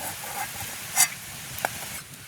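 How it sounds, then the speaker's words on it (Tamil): Vegetables frying in oil in batches over a village cooking fire: a faint, even sizzle with a few sharp crackles and pops, no talk. "அதை நாங்கள் பொரிய தான் புறம் புறமாக பொறிச்சு எடுக்கிறோம்"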